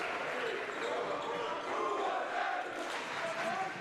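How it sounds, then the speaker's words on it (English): A crowd cheers and roars continuously at a boys' varsity high school basketball game between Palatine and Hoffman Estates, with a broad steady wash of voices and a commentator talking over it. "the crowd is getting into it"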